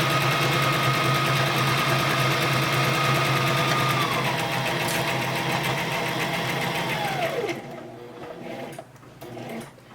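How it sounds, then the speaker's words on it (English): An electric sewing machine runs a straight stitch around a fabric owl stuffy, a steady close whirring drone that slows and winds down near the end, leaving a few light clicks. "we're gonna go ahead and put a straight stitch all the way around, leaving the gap"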